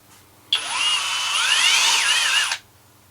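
A HoTo cordless drill whirs close up for about two seconds, its motor pitch sliding up and down before stopping abruptly.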